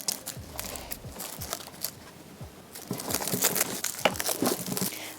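Hoya stems snipped into single-node cuttings, with a run of crisp close-up cuts and crunchy crackles scattered through, growing busier and louder toward the end, no talking.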